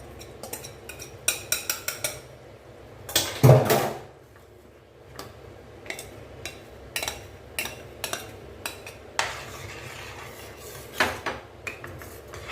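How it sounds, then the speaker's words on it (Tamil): A spoon stirring a thick gram flour and ghee Mysore pak mixture in a pan, with quiet, intermittent scrapes and metallic clinks in an irregular rhythm, one louder knock near the start. "மெதுவாக கிளறி கொடுத்துட்டே இருங்க"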